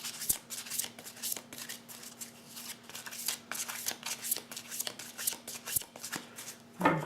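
Tarot cards are shuffled and dealt onto piles with brisk, close riffling and soft slapping as each card lands, filling the clip alone with a faint steady hum underneath.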